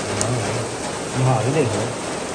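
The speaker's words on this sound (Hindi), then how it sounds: "और तेज हो गई है बारिश" Heavy rain pours steadily in a dense wash of hiss, with brief low murmurs beneath it; constant and fairly loud, without distinct individual drops.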